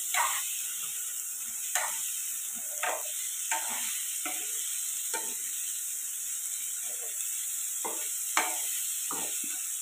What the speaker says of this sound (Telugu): ఆయిల్లో ఈ కాలీఫ్లవరు ఫ్రై అయితే చాలా బాగుంటుందండి.